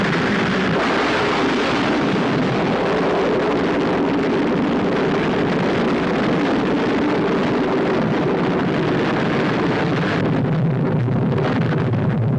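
A launch engine ignites at the end of a countdown, a loud, continuous roaring rush that holds for the whole stretch without speech.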